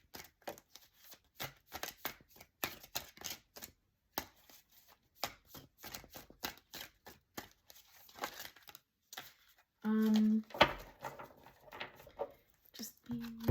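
Tarot cards shuffled close by in quick, irregular riffling flurries with brief pauses, with a short stretch where a voice briefly speaks.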